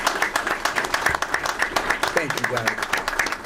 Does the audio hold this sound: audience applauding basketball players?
yes